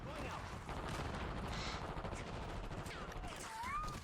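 SAUG SMG fire in a video game, heard as dense rapid bursts of automatic gunfire mixed with other battle noise and occasional whizzing effects, fairly faint overall.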